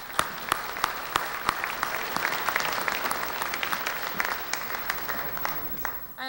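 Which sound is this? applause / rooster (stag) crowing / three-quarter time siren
applause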